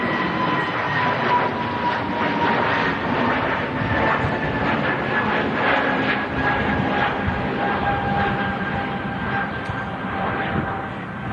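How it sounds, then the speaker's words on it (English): Scandinavian Airbus A320neo taking off, a loud continuous jet engine roar with a slowly gliding high whine, steady and strong through the clip. "Scandinavian A320 Neo as well."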